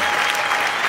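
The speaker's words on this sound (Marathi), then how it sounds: "टाळ्या." A live audience bursts into dense, loud applause at the start of a Marathi comedy show, a full, even roar of clapping for the whole short moment.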